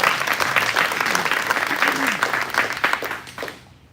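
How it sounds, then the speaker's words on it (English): A crowd at a county political party meeting claps and cheers, a short burst of lively applause with scattered voices that fades out after a few seconds. "we are going to give a round of applause for that"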